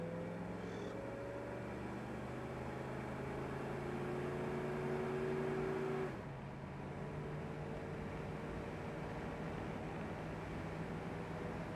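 A 1964 Ford Falcon convertible drives steadily with a continuous engine drone and road noise; the engine note climbs, then drops abruptly around the midpoint as it shifts gears and resumes a lower, even hum.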